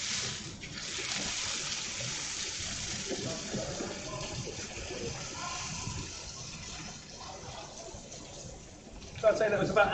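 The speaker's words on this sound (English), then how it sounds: "Just strain them in your sink at home" Water from boiled vegetables draining into a kitchen sink, a steady rushing gush that runs throughout, with a brief louder splash near the end.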